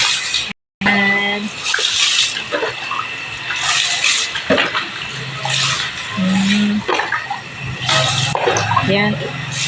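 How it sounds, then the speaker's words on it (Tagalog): Water splashing and running as a child is bathed, with bursts of splashes and pouring at close range, heard under frequent voices talking. "Gustong gusto ni Iko maligo."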